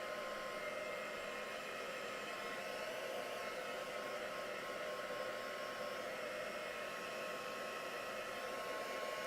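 A hair dryer runs on freshly dipped colour, giving a steady, even blowing hiss at moderate level without pause throughout.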